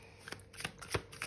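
Tarot cards are shuffled by hand, giving soft, quiet riffling bursts in an uneven rhythm close by.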